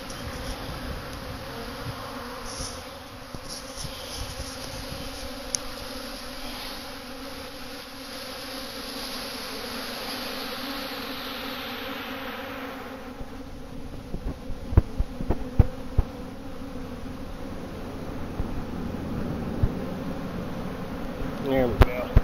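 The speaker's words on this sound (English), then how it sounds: "See if you can see all those bees flying around." A swarm of honey bees hums around a hive entrance in a dense, continuous buzz that stays steady throughout, with occasional handling knocks and rustles near the end.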